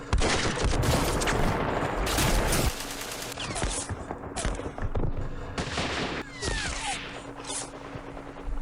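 Infantry gunfire in the wargame Campaign Series Middle East: loud bursts of rifle and machine-gun fire crackle in rapid volleys, followed by scattered shots and sharp effects, with no talking.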